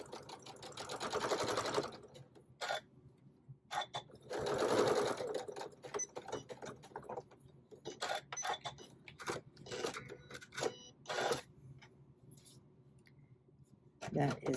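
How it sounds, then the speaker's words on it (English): A sewing machine stitches a fabric zippered pouch closed in repeated short bursts of rapid whirring, loud and close, with brief pauses between runs and occasional clicks. "We're going to sew about 1/8 of an inch here to close this bag up."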